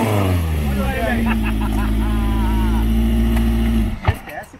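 A 1988 Volkswagen Passat GTS Pointer arriving, its engine a steady loud hum with a rising tone close by, cutting off abruptly near the end, with people talking over it.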